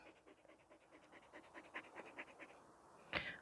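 A dog pants heavily on an evening walk in a mushroom forest, quick rhythmic breaths close by and faint, ending in a brief louder burst.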